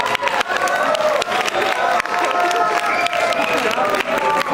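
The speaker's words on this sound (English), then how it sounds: "Give a round of applause." An audience at a TED talk event applauds and cheers, a loud, sustained wash of clapping with scattered voices mixed in for several seconds.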